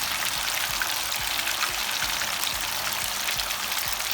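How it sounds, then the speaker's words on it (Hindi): Three fish pieces frying in hot oil, a dense, steady crackle and sizzle throughout with small popping bursts, close and even, no talk. "इसमें मैंने 3 पीस डाल दिए हैं और 3 पीस हमारे इजीली इसमें फ्राई हो जाएंगे"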